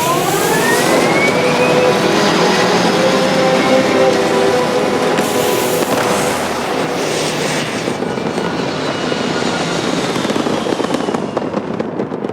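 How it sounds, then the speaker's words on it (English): Spaceship thrusters firing in Starfield, a loud continuous roaring rumble with rising whining tones that holds steady for several seconds before easing slightly, with no talking. "All thrusters firing."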